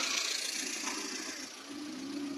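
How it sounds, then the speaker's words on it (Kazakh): A VAZ 2114 car with a 1.6-litre engine idles steadily nearby at a used car market, a low continuous rumble with a faint rhythmic pulse and no voices. "Алдарыңызда ВАЗ 2114 автокөлігі"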